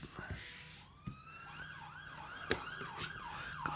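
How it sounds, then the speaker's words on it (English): A fire engine siren passes along a main road, its wailing tone sweeping up and down repeatedly, moderately distant and building slightly louder, with traffic rumble and some clattering noises nearby. "Yep, fire engine going by."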